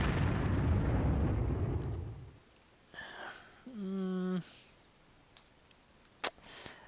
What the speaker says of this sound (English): Might as well bombard that.